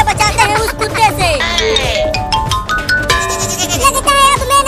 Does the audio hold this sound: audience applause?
no